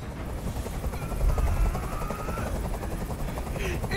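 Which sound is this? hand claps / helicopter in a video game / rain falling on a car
helicopter in a video game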